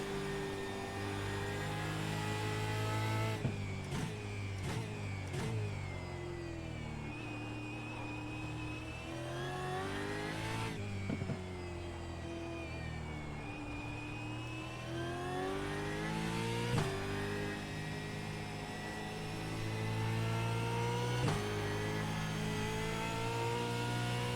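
A Supercar racing engine in iRacing at Indianapolis, held in third gear, roars loud and steady with long rising and falling rev sweeps, several abrupt shift or lift cuts, and a constant whirring drone throughout.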